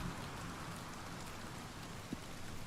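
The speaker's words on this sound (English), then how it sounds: "I don't want to hear rain whenever I go inside of a fort." Steady rain in Oblivion Remastered falls as an even, faint hiss of drops, unbroken and with no voices, plus a single soft knock near the end.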